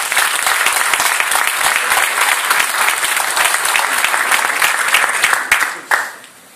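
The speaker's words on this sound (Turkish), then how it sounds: "kendinizi bir alkışlayın arkadaşlar" A room full of people gives a vigorous round of applause, crisp individual claps blending into a loud continuous patter that tapers off at the end, with a few stray claps.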